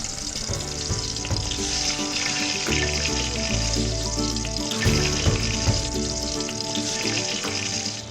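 Eggplant pieces sizzle and crackle steadily in hot oil, a continuous frying hiss with occasional stirring clatter and no talking.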